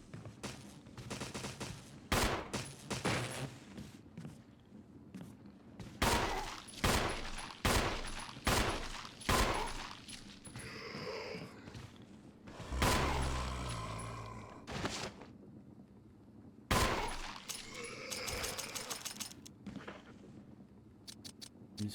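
Colt pistol gunfire in the video game Resident Evil 1, sharp shots fired singly and in quick clusters with gaps between, plus a burst of other game noise in the middle.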